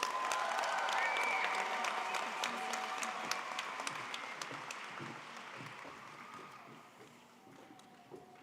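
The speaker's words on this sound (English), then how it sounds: "Quick round of applause for our scholarship winners." Sustained audience applause at a high school graduation ceremony for scholarship winners, a dense steady patter of many hands that holds strong for several seconds, then gradually thins and fades toward the end.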